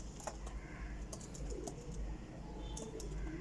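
A pair of Kasuri pigeons gives soft, faint coos over a low steady background hum, with a few light chirps and clicks in a short quiet stretch.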